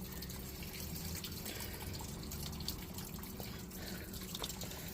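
Water runs and splashes through a screen as mineral matrix from Cedar Butte is washed to reveal tiny augite crystals, a steady trickling flow with faint drips and scraping, fairly quiet and continuous.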